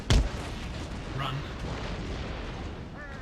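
A single heavy artillery boom from the Napoleonic-era strategy game Empire: Total War opens loudly, then fades into a continuous rumbling battlefield din with faint background noise.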